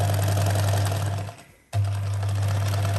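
Sewing machine running a long basting stitch along a zipper seam, a steady close motor hum that cuts out briefly partway through and then resumes at the same even pace.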